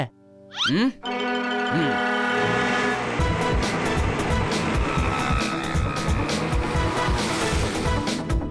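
A car races along in a cartoon, starting with a rising engine whoosh and skid and then settling into a steady, loud, revving drive that carries on to the end.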